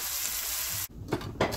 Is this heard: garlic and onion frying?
yes